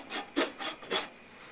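A rasp files a livestock guardian dog's foot in four short, close, scratchy strokes, each a brief rough rub.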